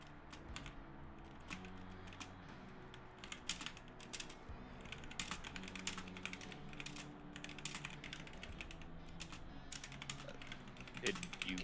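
Computer keyboard typed on continuously for several seconds in dense, irregular clusters of quiet clicks, heard close over a low background murmur with faint voices underneath.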